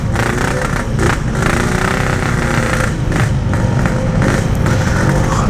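A motorcycle engine with the clutch held at half engagement runs loud and close in a steady, rough drone, its revs rising and falling slightly the whole time, with no voices over it.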